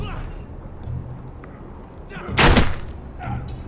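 In a Game of Thrones video game, a crossbow bolt strikes a target dummy with a single loud thud. A voice speaks quietly before and after the hit.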